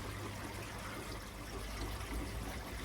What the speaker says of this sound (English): Just filling up my header tank,